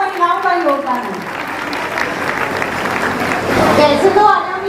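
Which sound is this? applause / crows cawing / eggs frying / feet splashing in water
applause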